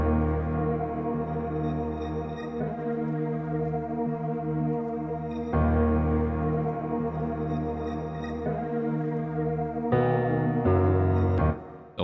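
Layered piano root notes pitched up and down an octave play under a dark main melody sample, a dense sustained blend of chords with a change every few seconds and a brief gap near the end.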